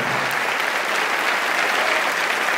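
Loud, even applause from a large crowd at a preacher's church event, cheering on champions, a dense continuous roar of clapping with no gaps throughout.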